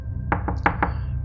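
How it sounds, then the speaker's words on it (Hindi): A door rattles in a spoken horror story, heard as four sharp knocking thumps spaced unevenly over about a second. It sounds close and moderately loud over a steady low hum, with no talking. "और कुछ देर बाद जो दरवाजा है वो खड़खड़ने लग पड़ा।"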